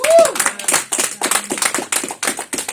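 Congregation in a London church clapping in rhythm to acclaim Jesus, a run of sharp, regular handclaps that fill the room, with a voice heard faintly beneath.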